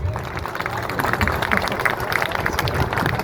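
A crowd at a family-rights protest at Jantar Mantar claps loudly and steadily, a dense sustained wash of applause with some voices mixed in.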